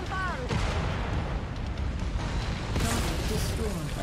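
Muffled booms and cannon blasts from Mechwarrior 5: Mercenaries combat, with mechs taking fire, several thumping impacts spread across the moment under a busy mix of in-game noise.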